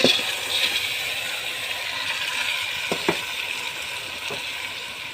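Rice and lentils sizzle steadily in a hot pan, a loud, even frying hiss with a few faint clicks and scrapes, and no one speaks.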